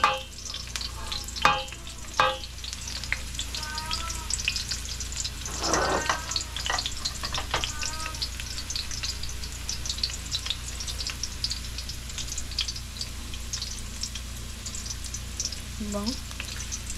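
Sarsiado ingredients fry in plenty of oil with a continuous crackling sizzle and scattered spatters, opening with a few clanks of a utensil, while people talk over it at times.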